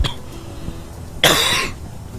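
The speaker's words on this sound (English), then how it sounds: "excuse my cough, it is very bad at the moment" A single harsh cough bursts out close to the microphone, short and loud, from someone with a bad cough, over a faint steady background hum.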